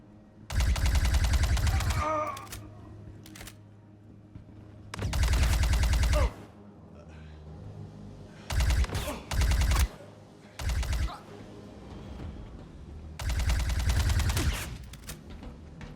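Bursts of shotgun and automatic gunfire in the Star Citizen video game, several loud, dense volleys each lasting a second or two, separated by quieter stretches of ambient game noise.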